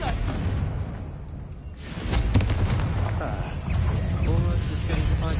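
A Confringo fire spell explodes in the video game Hogwarts Legacy, with a whooshing burst followed by rumbling booms and crackling debris over a steady loud bed of game noise.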